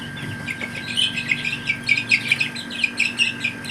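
Chickens with a rooster among chicks make high, rapid peeping chirps that come in quick bursts close by, with a low background hum underneath.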